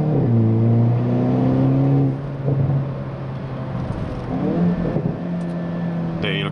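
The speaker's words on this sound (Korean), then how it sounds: "이렇게 배기에서 빵빵 터지는 팝콘 사운드를 내주고 있는 모습도 또 하나의 N만의 매력이라고 할 수 있겠죠" A Hyundai Kona N's engine and exhaust drone loudly as it revs and falls, with a few sharp pops and crackles from the exhaust between the throttle changes.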